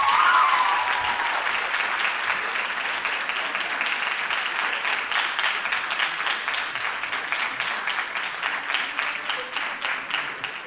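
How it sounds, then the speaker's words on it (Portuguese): Long, steady applause from a conference audience welcoming a professor to the panel, a dense, even wash of clapping that gradually thins and becomes more rhythmic toward the end. "professora Eliette, salva de palmas para ela."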